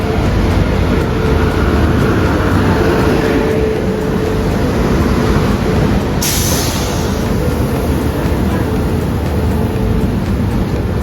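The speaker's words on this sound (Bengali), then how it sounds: "সো ফাইনাল দেখতে পাচ্ছ ট্রেন কিন্তু আমাদের ঢুকে গেছে" Dhauli Express train pulling into a station, a loud continuous rumble and rolling roar with a brief high squeal partway through.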